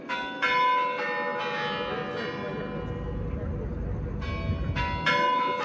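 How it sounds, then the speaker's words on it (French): Kremlin clock bells in Moscow ring out in a series of loud, resonant chimes, several distinct strikes with a lingering hum between them, heard from outside over faint city noise. "je suis interrompu par le gong du fameux Kremlin"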